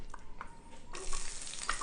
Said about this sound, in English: Yeah, sizzle, sizzle. Saute.